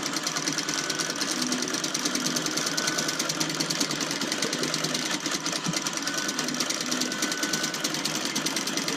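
Sewing machine quilting a purple quilt, running steadily and fast with a dense, even stitching rattle close by throughout, without pauses.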